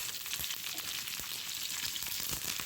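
Hot coconut tempering poured into a Kerala fish curry, giving a steady, bright, hissing sizzle that holds loud and close for the whole stretch, with no voices.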